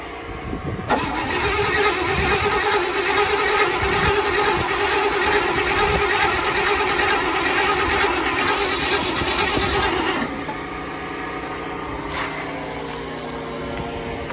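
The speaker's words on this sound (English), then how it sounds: "we're gonna give this the first crank over and see what happens" The engine of a 1961 Chevy C10 long bed fleetside truck cranks over for about ten seconds, a loud steady starter churn that stops abruptly, leaving a quieter background hum.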